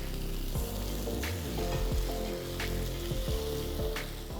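Mango pieces with the peel on, cooking in a pan with chilli, sizzle and fry steadily. The frying stays loud and close throughout, with a few soft stirring knocks.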